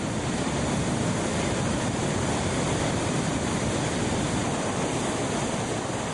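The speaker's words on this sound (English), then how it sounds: "From the plateaus above, the water comes crashing down and rushes headlong towards the plains." Rani Falls in full flood, a waterfall of water crashing down from the plateaus, heard as a loud, steady, continuous broadband roar with no pauses, close and overwhelming throughout.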